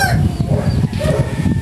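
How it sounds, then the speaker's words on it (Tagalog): Hens cluck continuously close by with a rooster crowing among them, a busy farmyard din filling the whole moment. "Ingay dito kasi ano, may mga manok."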